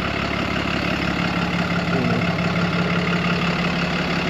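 A charter bus engine idles nearby with a steady low rumble and an even mechanical drone that holds constant, with no speech over it.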